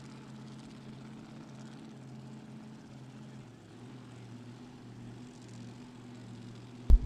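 A drag racing car engine at Byron Dragway during a Glory Days Saturday event drones steadily and far off for the whole stretch, a low sustained roar with a brief sharp bang at the very end.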